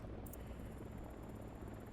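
A helicopter in the video game Ghost Recon Wildlands drones as a loud, continuous rotor and engine roar, steady throughout with no talk.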